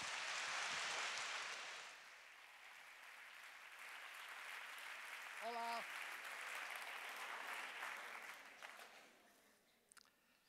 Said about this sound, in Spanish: Recibamos con un fuerte aplauso a Antonio Valero